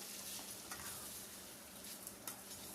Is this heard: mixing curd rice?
yes